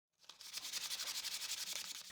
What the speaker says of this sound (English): I repeat the sanding and drilling on the second frame as well.